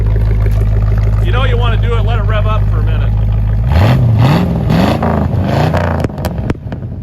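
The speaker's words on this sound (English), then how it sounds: "Let it rev up for a minute." The engine of a 1965 Chevrolet Chevelle Malibu idles loudly with a deep steady rumble, then revs up in several rising and falling blips before dropping back, while people talk over it nearby.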